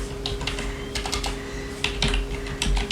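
Fingers tap out text on a computer keyboard in quick, uneven bursts of close, crisp clicks, with no voice over them.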